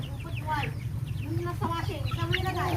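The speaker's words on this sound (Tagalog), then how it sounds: "Alaga naming mga manok" Several chickens, one with feathered feet, cluck and murmur close by over a steady low background hum, their short calls overlapping irregularly.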